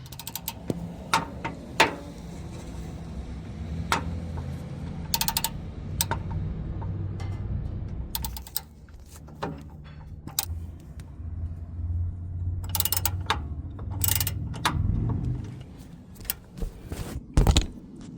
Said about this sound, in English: We're just going to tighten them up with the wrench.